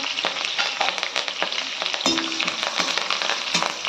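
Black peppercorns and curry leaves fry in hot oil in a pan, giving a steady crackling sizzle with scattered pops and occasional stirring scrapes, close and alone.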